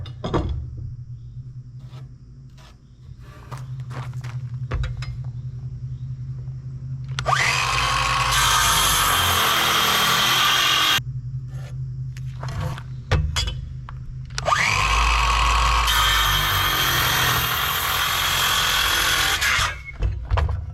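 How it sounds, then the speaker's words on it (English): A power drill drives screws through the plastic liner of an IBC tote into 2x4 wood framing, two long loud whirring bursts with squealing and a rising and falling pitch, separated by quieter clunks and handling noise. "I'll just kind of screw from the inside with some screws and attach right to that 2x4"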